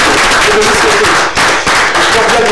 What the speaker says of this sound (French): Merci d'applaudir pour Davicios, s'il vous plaît.